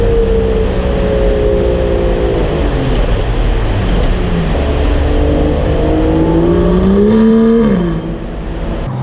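The V12 of an Aston Martin DB11 in Sport Plus mode revs loud and close, a rough engine tone that climbs, dips and swells again before easing off near the end, with no talking.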